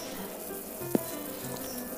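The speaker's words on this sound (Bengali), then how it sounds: "এবার বেগুনগুলো লাল লাল করে ভেজে নিয়ে আমি অন্য একটা পাত্রে তুলে নেব।" Eggplant pieces frying in a pan give an even, close sizzle throughout, with one brief clink near the middle and no voices.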